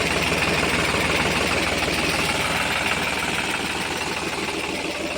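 A New Holland 3630 tractor engine idles close by in a steady, loud, low rumble with an even throbbing pulse, unchanged throughout and with no voices.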